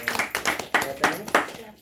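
A small group claps at a home birthday celebration, with a few uneven bursts of hand claps arriving roughly every third of a second, moderately loud and close.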